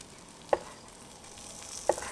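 Fish frying in a pan, a soft continuous sizzle in the background broken by two sharp pops about a second and a half apart.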